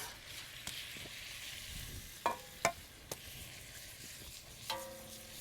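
Lamb sears in caramelizing butter in a hot cast iron pan, a soft, steady sizzle broken by a few sharp clanks and scrapes of utensils against the pan.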